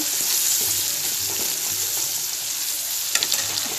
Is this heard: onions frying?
yes